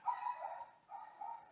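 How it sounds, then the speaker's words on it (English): Several dogs bark in quick bursts indoors, fairly faint and a little distant, with yips coming in repeated bouts and no talk over them. "Apologies for the barking of my dogs."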